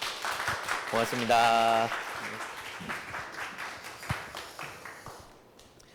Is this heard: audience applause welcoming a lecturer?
yes